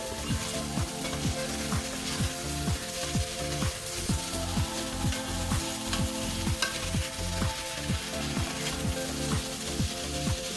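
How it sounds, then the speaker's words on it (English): Potatoes sear in hot oil in a pan, a constant loud sizzle with rhythmic scraping as they are stirred and turned, no voices. "you want all the sides of the potatoes to be nicely seared."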